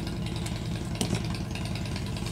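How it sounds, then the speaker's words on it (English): Motorbike engine running close by during a beading craft session, a steady loud idling rumble with a brief rev midway. "He obviously does think you have to run the motorbike like that while I'm doing the tutorial."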